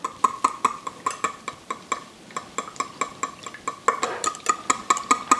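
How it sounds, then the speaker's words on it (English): Wet cake batter ingredients with vanilla extract are stirred in a bowl, a quick regular rhythm of utensil taps and scrapes against the side, close and moderately loud with no talking. "And just stir all the wet ingredients up together."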